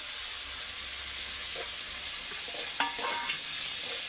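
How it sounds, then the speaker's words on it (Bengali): Potatoes are stirred into a spicy snail curry and sautéed in a hot pan, a constant hiss of frying with scraping spatula strokes and clinks growing busier toward the end, no one speaking. "এবার আলুগুলো দিয়ে দেবো, দিয়ে ভালো করে কষে নেবো।"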